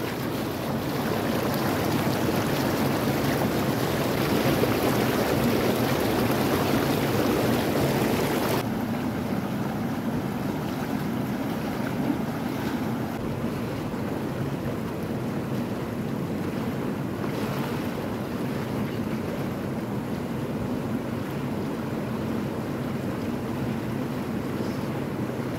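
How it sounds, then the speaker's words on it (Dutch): Jacuzzi bubbles run as a steady, close broadband rush of churning water, louder for the first several seconds and then settling into a softer, even hiss, with no talking. "De bubbel staat aan en we gaan hier heerlijk genieten."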